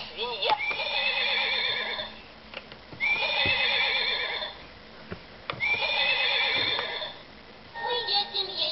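Three loud horse whinnies, each a long quavering neigh, separated by short pauses, with a few faint clip-clops and a brief fourth call at the end.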